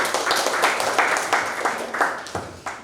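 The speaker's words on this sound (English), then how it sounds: "Clap your hands." An audience claps at a leadership training event at the Singapore embassy, giving a steady patter of many hands at moderate volume with a few louder bursts and no talk.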